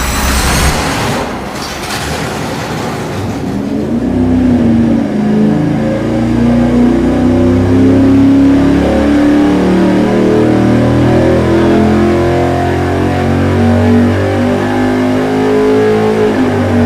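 A street V8 on an engine dyno fires up and revs hard, a loud, continuous roar climbing steadily in pitch and holding high, heard alone without talk.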